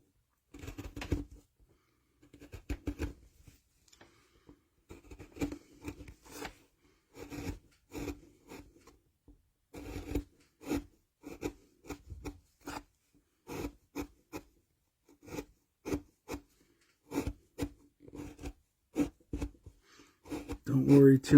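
A carving tool cutting into wood on a relief carving of a fantasy medieval light post, short scraping strokes in irregular bursts separated by quiet pauses, close and fairly soft.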